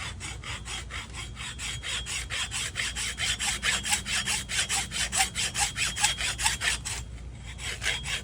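A hand saw cutting a piece out of a deer antler gives a close, steady back-and-forth rasp of quick, even strokes that grows slightly louder and faster midway, then pauses briefly and resumes.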